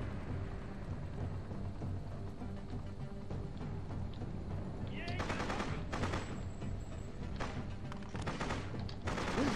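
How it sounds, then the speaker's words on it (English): Machine gun fire in the video game Freedom Fighters, sharp bursts of rapid shots arriving in several clusters over the second half above a low rumbling game background. "Oh, they have a machine gun."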